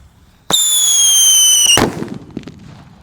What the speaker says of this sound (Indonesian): suara mercon rambo